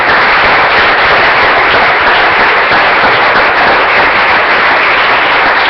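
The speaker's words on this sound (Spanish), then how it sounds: "Démosle un aplauso al Señor, hermano." A church congregation applauding during a Spanish-language sermon: loud, dense, continuous clapping that fills the whole stretch without pause, with no talk over it.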